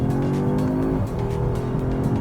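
An Audi S3 accelerates to pass traffic, its engine droning loud and close from inside the cabin, with a rising rev and a brief dip around a gear change before pulling on steadily.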